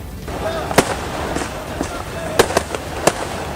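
Several sharp firecracker bangs pop at irregular intervals over a noisy crowd background, some close together, moderately loud.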